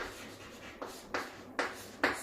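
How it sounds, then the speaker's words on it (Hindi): Marker strokes on a board during a chemistry lecture, four short scratchy swipes spaced about every half second, close and distinct over a low room hum, no speech. "पहले मैं एग्जांपल लिख रहा हूं फिर बताऊंगा।"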